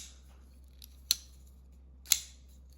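A folding knife's flipper snaps the blade open with two crisp, sharp clicks about a second apart, close and clean against a quiet background.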